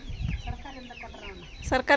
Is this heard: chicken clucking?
yes